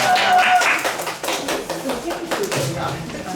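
Audience applause for a seminar speaker at a lecture on peace, a dense wash of clapping that swells at the start and holds steady under some talk for a few seconds.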